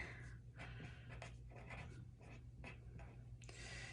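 A pen scratches out a single word on paper in short, quick strokes, close and faint against a low steady hum.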